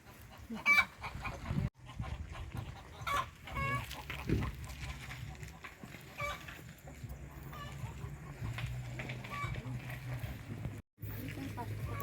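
Hens clucking in a rural yard in New Zealand, repeated close clucks and calls with a rooster crowing, heard under ongoing conversation.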